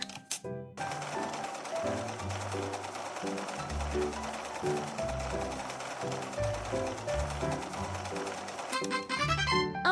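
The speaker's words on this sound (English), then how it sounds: "Now let's sew the pieces together." A sewing machine stitching fabric pieces together, running in rapid mechanical bursts that speed up and pause, close and fairly steady, with no talking.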